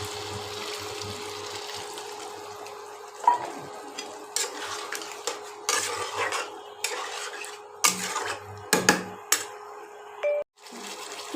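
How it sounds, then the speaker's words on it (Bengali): Kashmiri aloo dum being stirred in a pan of oil as a little water goes in: close scraping and clinking of a spoon against metal, bursts of sizzling and splashing in uneven strokes, with brief quiet gaps between. "কষানো হয়ে গেছে, এবার সামান্য জল দেবো"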